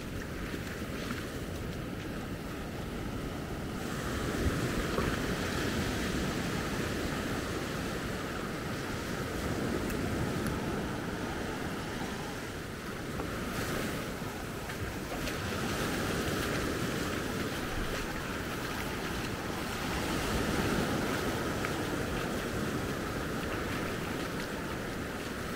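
Waves wash onto the beach at Maspalomas, Gran Canaria, at sunrise in a steady, moderately distant surf roar that swells and recedes gently, with no voices.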